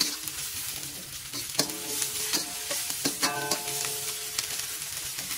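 Spring onion and coriander stir-fry in hot oil with ginger in a wok, giving a steady close sizzle broken by sharp scraping clinks of a spatula against the metal.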